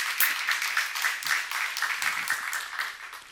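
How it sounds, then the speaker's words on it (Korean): A church congregation at a seminary-style service claps together, a dense, even wash of many hands at middle distance continuing steadily for the whole few seconds without any speaking. "박수하면서 이 길을 가는 겁니다."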